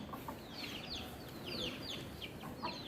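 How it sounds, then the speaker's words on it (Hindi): A hen clucks with her chicks in a quiet outdoor spot, giving soft repeated clucks and thin chirps over low background noise. "ये मुर्गी गई आगे, चूजे रह गए पीछे।"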